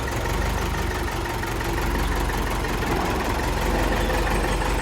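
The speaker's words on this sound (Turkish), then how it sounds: "Görüb turgan Yumuzi traktoru satıladı dostlar." A YUMZ tractor engine idling nearby, a dense, steady diesel rumble with a rough knocking texture and no change in pace over the few seconds.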